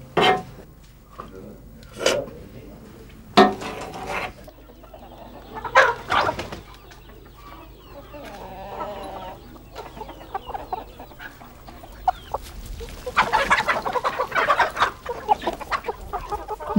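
A rooster crows and hens cluck in a farmyard, with several loud separate bursts spaced across the scene, softer clucking in between, and a busier stretch of calls toward the end.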